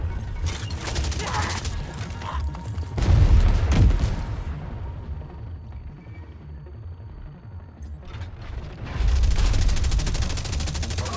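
Gunfire and a grenade blast in The Division 2, with bursts of rapid automatic shots, a heavier booming burst, a quieter stretch, then loud firing resuming near the end.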